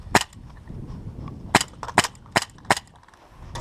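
Airsoft guns firing during an outdoor game: about six sharp, distinct snapping shots, irregularly spaced, close and fairly loud.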